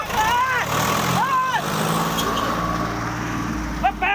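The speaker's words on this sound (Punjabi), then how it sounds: "ਮੇਰੀ ਮਾਂ ਦੇ ਟਰੈਕਟਰ ਚੜਦਾ ਜੀ" A tractor engine drones loudly and steadily as it drives toward a woman during a land dispute, with shouting and crying voices rising over the engine noise.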